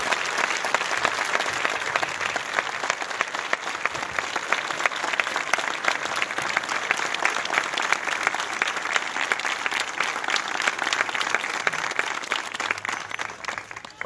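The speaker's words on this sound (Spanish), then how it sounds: "le brindemos un aplauso muy fuerte a todas las personas que han trabajado" Sustained, dense applause from an audience at the inauguration ceremony of a seniors' home, steady and loud for the whole stretch with no talk over it.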